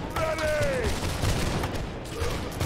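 Musket volley fire in the Holdfast video game makes a dense, crackling roar that fills the whole stretch, with a thin whistling tone early on and voices faintly underneath.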